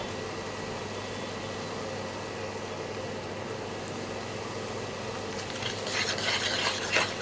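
Onions softened in a pan are stirred with added turmeric and chili powder, a steady scraping, sizzling rustle that grows a little louder and busier toward the end, with no talking.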